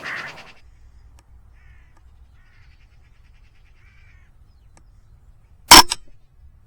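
Crows caw in a short burst at the start of a hunt, followed by faint scattered calls and then a single sharp, loud shot near the end.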